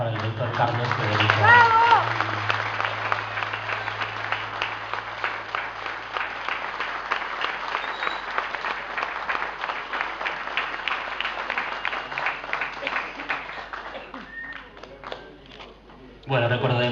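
An audience applauds at a Día de la Guarania medal ceremony in Paraguay for Dr. Carlos Federico Abente, a dense, sustained round of clapping that follows a brief spoken introduction and lasts about fourteen seconds before fading.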